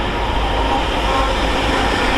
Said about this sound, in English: Next up is the Freightliner 66 that we saw earlier, heading off to Rugby, 66-415.